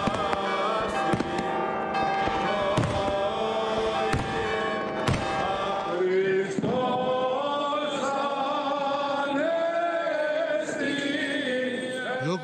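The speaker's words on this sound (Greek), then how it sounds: "ο Αττικός Ουρανός γεμίζει πυροτεχνήματα" Fireworks burst over Athens at Easter midnight outside the Metropolitan Cathedral, a dense run of sharp bangs and thuds crowding the first half, then continuing amid a steady roar of crowd and ringing bells.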